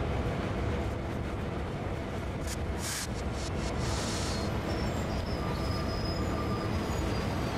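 A freight train rolling through a classification yard on Sand Patch Grade in Train Sim World 2, a continuous dense rumble with a few faint high squeals and clicks, no voices.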